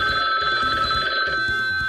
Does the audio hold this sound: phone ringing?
yes